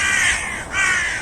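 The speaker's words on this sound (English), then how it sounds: "Conversation of these crows." Crows caw on a nature walk, giving two harsh, loud calls close by in quick succession over faint outdoor background.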